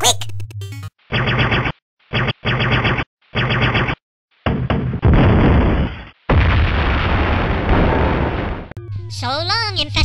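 Loud, dense video-game explosion noise as an Infestupon ship blows up in space, broken into chopped bursts before a long sustained roar, ending with warbling electronic game tones.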